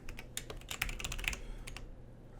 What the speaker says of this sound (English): Apparently I can't type today.